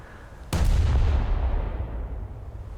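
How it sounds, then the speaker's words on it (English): A deep, booming blast as a ship's secondary magazine explodes aboard the Trento heavy cruiser in World of Warships, a sudden loud onset followed by a long rumbling decay. "One of the secondary magazines exploding."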